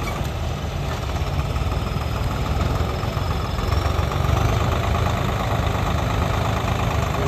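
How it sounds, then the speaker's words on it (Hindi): A turbocharged tractor engine runs continuously nearby in a field during paddy harvest work, a steady low chugging throb with a slight swell partway through and no talk. "बहुत जोर मारता ट्रैक्टर टर्बो करके"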